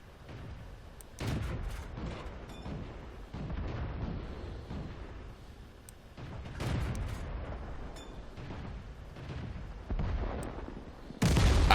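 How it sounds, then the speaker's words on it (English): Artillery fire in the tank battle game World of Tanks, heard as a series of heavy booming blasts and gunfire bursts spread across the clip, with a loud impact near the end. "Their artillery destroyed me."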